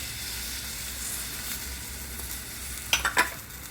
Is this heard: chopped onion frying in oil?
yes